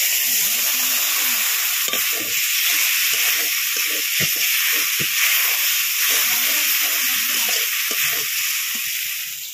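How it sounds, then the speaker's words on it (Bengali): Ground cumin, pepper and garam masala paste fries with a little water in a pan, a steady close hiss and sizzle with frequent clicks and scrapes of stirring throughout. "মশলা কষানো হয়ে গেছে"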